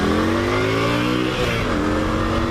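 A 2003 Yamaha XV250 Virago motorcycle pulling away from a stop, its engine revving up steadily with rising harmonic pitch, close and loud for a couple of seconds with wind noise underneath.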